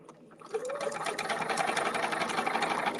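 A domestic sewing machine stitching at an even medium speed: after a brief quiet moment, a steady, rapid, rhythmic whirring and clatter starts close by and continues without pause.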